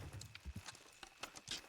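Horses' hooves clip-clopping in the video game Red Dead Redemption II, heard as a loose run of soft, fairly faint thuds at a middle distance, with no talk over them.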